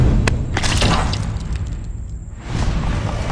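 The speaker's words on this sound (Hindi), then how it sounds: "नीरज बंदूक उठाकर पायल की तरफ तान देता है और गोली चला देता है।" A loud burst like a gunshot effect, with a sharp crack early on, then a brief dip and a rumbling swell of noise returning.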